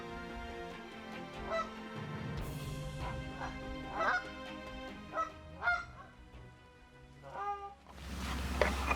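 A flock of geese honking repeatedly during a waterfowl hunt, several calls overlapping at moderate distance over a steady low rumble, with a louder burst near the end.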